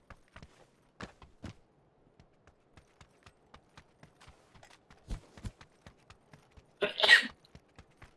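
During a PUBG gaming session, one sharp, close sneeze bursts out near the end after a stretch of quiet, evenly spaced clicking and tapping sounds.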